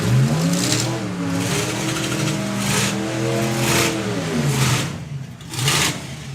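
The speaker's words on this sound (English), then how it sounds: "Supercharged Essex V6." Drag car with a side-mounted supercharged Essex V6 accelerating down the strip at a drag racing event, a loud, sustained engine roar climbing through several gear changes with rising and falling pitch.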